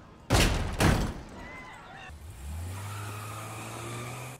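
Car tires skid in a scene from The Umbrella Academy, two sharp, loud screeching bursts up close followed by a steady engine hum as the car idles and pulls away, with no one speaking.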